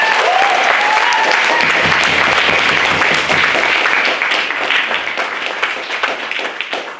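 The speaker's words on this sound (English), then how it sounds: "So can we just have one more round of applause?" A debate audience breaks into loud, dense applause that holds strong for several seconds, then thins out and fades as the clapping tapers off.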